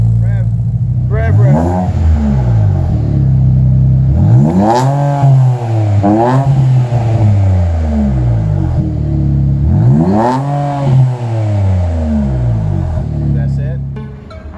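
An Infiniti Q50 fitted with a Greddy 370z exhaust revs repeatedly in loud, rising and falling bursts while idling between pulls. People talk over the engine.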